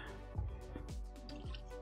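Water sloshing and dripping in a bowl as it is changed while cleaning raw shrimp in a kitchen, with several close, wet splashes and drips in quick succession.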